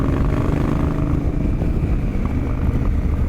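A motorcycle exhaust rumbles steadily and loudly close to the microphone while riding, a continuous low throaty drone with wind buffeting, no talk.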